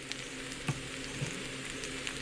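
Sesame oil hits frying rice in a pan, producing a steady, moderate sizzle with a few faint soft clicks and stirring taps on top, no talking.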